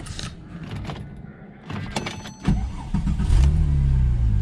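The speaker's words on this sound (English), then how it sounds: "let me turn the car on" A 2008 Porsche 911 Turbo (997) engine cranks and catches, then settles into a steady idle, preceded by a few clicks and small mechanical noises.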